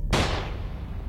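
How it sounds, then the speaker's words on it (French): A single sharp gunshot sound effect in a tabletop role-play session, a sudden loud crack followed by a booming low rumble that decays over about a second. "tu entends un coup de feu."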